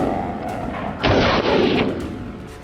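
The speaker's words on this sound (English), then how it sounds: "I fired rapidly, bullets chasing their frantic path. Boom! Boom!" Two loud rifle gunshots fired in rapid succession during a boar hunt out on open grassland, a heavy booming burst standing out against outdoor background noise.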